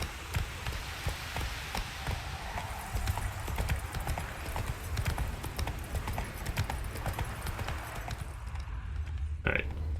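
Horse hooves clip-clopping in The Witcher 3: The Wild Hunt, a steady galloping rhythm of hoofbeats close by, continuing for several seconds with faint game ambience beneath.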